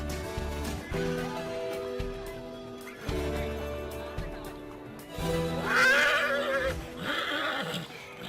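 Horses at a large cavalcade parade with thousands of riders, neighing in several loud, drawn-out whinnies spread through a noisy outdoor crowd.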